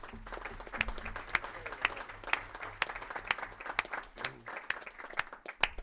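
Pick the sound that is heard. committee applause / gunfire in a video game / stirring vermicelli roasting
committee applause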